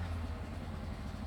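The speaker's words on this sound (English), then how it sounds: "I think it's a motorbike or dirt bike of some sort." A steady low dirt bike engine rumble from a neighbouring property drones continuously past a garden, idling or revving at a distance, with no pauses.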